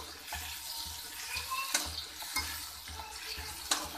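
Onions and green chilies fry in a pan for a masala pasta, giving a steady soft sizzle with several sharp scraping stirs. No one talks.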